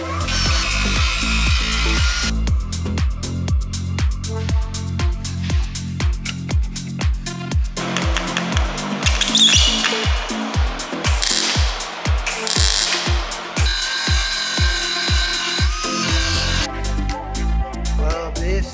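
Rapid metallic grinding and welding work on the body of an Opel Kadett GSI under restoration, dense rhythmic bursts and a steady buzzing roar running continuously and loud throughout, with no talk.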